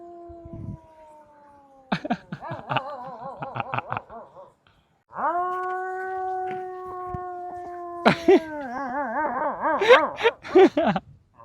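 Several dogs howl in long, drawn-out wavering tones, sometimes overlapping and sometimes trailing into yelps, close and fairly loud, with brief gaps between bouts.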